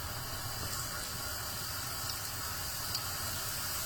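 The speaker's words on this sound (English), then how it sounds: "So we pan fry oyster mushroom" Oyster mushrooms pan frying over medium heat, a steady close hiss and crackle of sizzling that runs unbroken and fairly loud throughout, with no talking.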